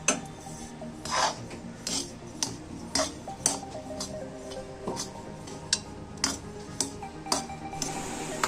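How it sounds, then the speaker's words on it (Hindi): Chana dal dry-roasting in a pan for besan laddoos, a utensil scraping and rasping against the metal in irregular, fairly close strokes with small clinks, and no voices. "सबसे पहले मैं इस चने की दाल को 5 मिनट तक भूनूंगी"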